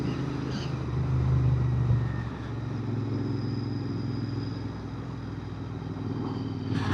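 A Continental GT650 motorcycle underway on a road, its engine a steady close drone with rumbling low tones that swell briefly early on, then hold an even, continuous level with no talking.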